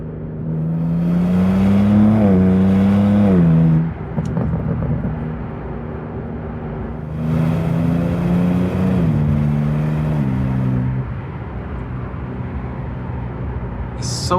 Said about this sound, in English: I think now the exhaust is really warmed up.